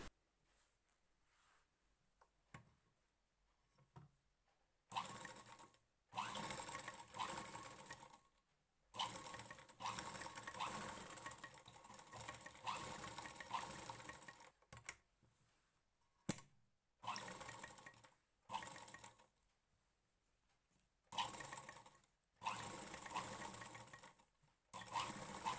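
A sewing machine stitches along a blouse neckline in repeated bursts of rapid whirring, separated by short quiet pauses, close and fairly soft, with no talking.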